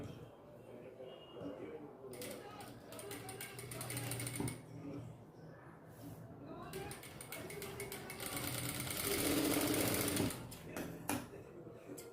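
A sewing machine stitches a miniature dress in quick rapid bursts of mechanical clatter, starting and stopping, with someone talking over the machine.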